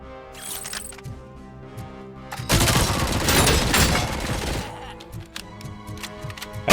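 SMG gunfire in the game RoboCop: Rogue City, a loud sustained burst of rapid shots in the middle, with quieter scattered shots and impacts before and after.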